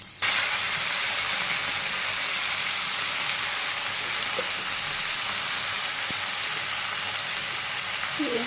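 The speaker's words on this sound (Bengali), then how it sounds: "তো পেঁয়াজটা ভাজি করে নিই" Onions frying in oil with cumin make a loud, continuous close-up sizzle that holds steady throughout, with a faint clink near the end.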